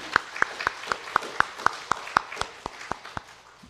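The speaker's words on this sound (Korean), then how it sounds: "다 같이 한번 박수 한번 쳐보겠습니다" A church congregation claps together in a steady, evenly spaced rhythm, about fourteen sharp unified claps over a few seconds, moderately close in a large room.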